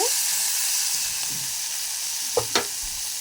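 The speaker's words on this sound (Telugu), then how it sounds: "పచ్చిమిరకాయలు కూడా వేపేసుకుంటున్నాను" Green chilies sizzle and hiss steadily in a hot pan, with a couple of sharp clinks and scrapes of stirring near the end.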